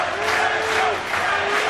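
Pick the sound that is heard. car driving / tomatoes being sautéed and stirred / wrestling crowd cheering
wrestling crowd cheering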